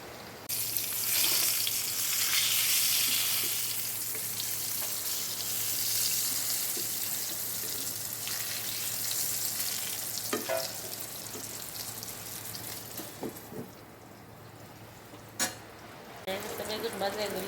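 Eggplant slices frying in a pan give a loud, close, continuous sizzle that fades toward the end, with a few clinks and handling sounds.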